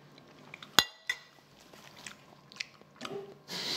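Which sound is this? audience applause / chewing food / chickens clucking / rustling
chewing food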